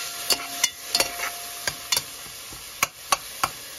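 Swordfish and mushroom frying in a pan give a steady background sizzle, broken by sharp utensil clicks and taps against the pan at irregular intervals, with no talk.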